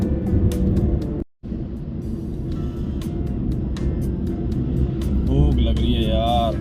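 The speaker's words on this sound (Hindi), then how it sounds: "क्या बात है कि गाड़ी भाग रही है।" Steady interior road rumble from a car speeding along the highway from Chandigarh toward Delhi, continuous and fairly loud, with a brief dropout and occasional passing-traffic swells.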